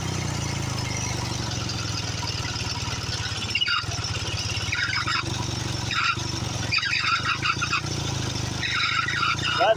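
Antique buzz rig engine running under load on a farm, a loud close throbbing low drone that labors and bogs, with rising whining tones and some voice underneath.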